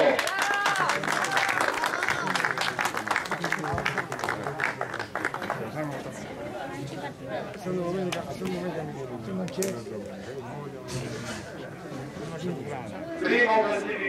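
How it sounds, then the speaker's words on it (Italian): Crowd applause and clapping greet the winners at a minikart race, steady clapping from many hands with chatter and an announcer speaking over it throughout. "accogliamo con un grande applauso Leo Guglielmo"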